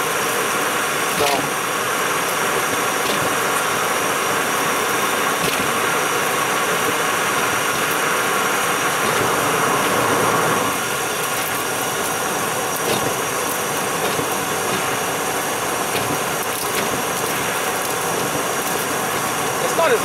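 An Arcimoto FUV three-wheeled electric vehicle runs in freezing 2°F cold, giving a steady, continuous whirring drone with vibration, close and unchanging throughout with only small bumps and clicks.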